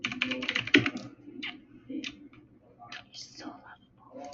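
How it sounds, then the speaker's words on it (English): Rapid clattering keystrokes on a computer keyboard, loud and close at first, then thinning into scattered taps beneath quiet whispered voices. "This whole thing is just him busy typing"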